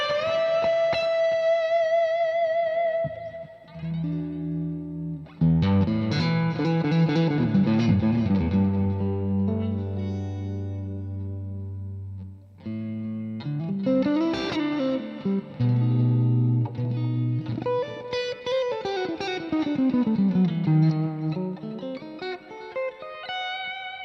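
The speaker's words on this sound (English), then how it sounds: "crank the reverb." Electric guitar played through a Marshall amp with echo and heavily cranked reverb, sustained chords and melodic lines ringing with distortion and long repeating tails, loud and continuous with no talking.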